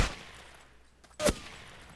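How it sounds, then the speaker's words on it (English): Gunfire in a first-person shooter video game, two sharp loud shots separated by about a second of near silence, the second one closer and harsher. "Someone's shooting at me."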